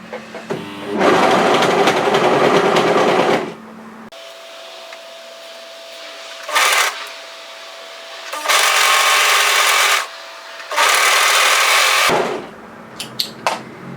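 A sewing machine stitches frills onto a sweatshirt in three loud, steady bursts of motor whir, with quiet pauses between runs.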